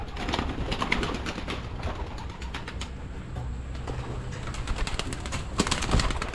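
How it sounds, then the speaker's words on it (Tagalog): A flock of pigeons nearby on a farm, with soft cooing, wing flaps and a steady rustling clatter of birds moving about. "mga ibon."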